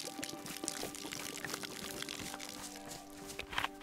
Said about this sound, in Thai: เราต้องเทน้ำนี่ทิ้งก่อน